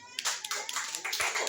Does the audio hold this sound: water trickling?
no